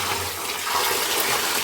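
A steady, loud gush of water from an old electrolysis rust-removal tank, with washing soda as the electrolyte, being poured in close up for the whole stretch, with no talking.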